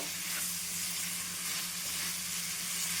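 An onion mixture for palak paneer sautés in a pan, giving a steady, soft sizzle with a constant hiss and no pauses.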